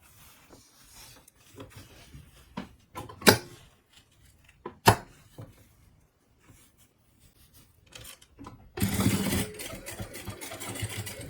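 A sewing machine stitches fabric for a slipper, sounding in short quiet bursts at first, then running in a louder steady buzz near the end.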